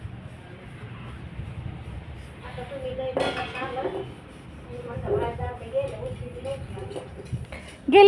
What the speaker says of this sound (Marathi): बघ कसली भारी घासती आमची मीराबाई भांडी.